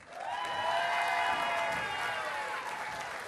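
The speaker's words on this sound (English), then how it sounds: "how about a nice round of applause for our 2 finalists." A crowd at a girls' state bowling finals claps steadily for the two finalists, with dense, sustained applause filling the hall and a ringing tone underneath.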